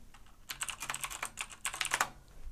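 Close, crisp clicking of Cherry MX Blue switches on a CM Storm QuickFire TK compact mechanical keyboard, rapid bursts of sharp key presses with short gaps, no voices.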